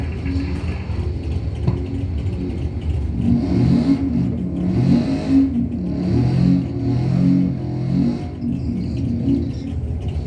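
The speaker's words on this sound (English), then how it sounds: "Oh, that old Camaro in that left lane got on down through that, ran 883 at 158." An old Camaro drag racing down the left lane at a raceway bracket event, a loud sustained engine roar with rising revs and gear changes building over several seconds, with no one talking.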